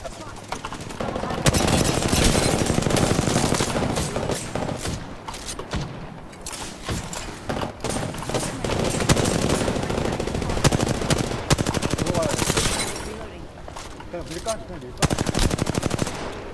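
Video game gunfire from Apex Legends comes as long, fast automatic bursts, loud and dense, with brief gaps between volleys and a short pause near the middle. Some talking may sit under the shooting.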